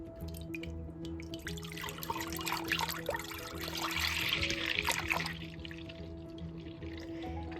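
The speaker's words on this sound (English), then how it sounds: "In goes my first half gallon to process for yogurt." Whole milk pours into a pot to be made into yogurt, a soft trickling and splashing stream that swells in the middle and then tapers off. The sound stays quiet and close throughout.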